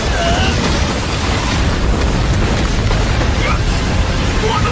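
An ice explosion trap bursting in the animated series Soul Land 2, a loud, dense roaring blast that fills the whole moment with a continuous rumbling boom.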